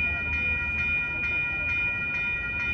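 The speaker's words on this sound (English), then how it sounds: "This is Amtrak 527, Capital Corridor train on its way to San Jose." Amtrak Capitol Corridor passenger train led by an SC44 locomotive passing in Oakland, California, a close, steady rumble with sustained whistling tones and rhythmic rail clatter throughout.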